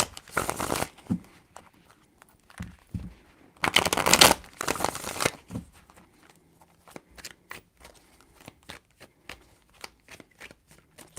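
A deck of tarot cards is shuffled close up, with two strong riffling bursts followed by a string of short, crisp card taps and slides.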